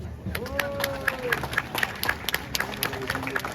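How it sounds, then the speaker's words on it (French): Outdoor crowd at a French town giant's baptism celebration clapping for Marcel Delcroix, a spread of brisk scattered claps with a voice speaking over them. "on l'applaudit"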